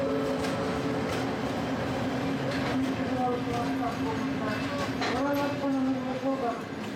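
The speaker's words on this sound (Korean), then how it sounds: "다음 날 알마티로 가기 위해 기차역으로 향했다." A train sits at a railway station in Kazakhstan, a steady loud rumble with a tonal hum and faint squeals and clanks, while people talk nearby.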